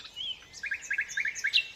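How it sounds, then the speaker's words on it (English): A nightingale sings in late spring from dense thorny scrub at Knepp, a rapid series of clear, bright chirped notes rising into a quick repeated trill, close and alone. "The nightingale is one of many species found at Knepp."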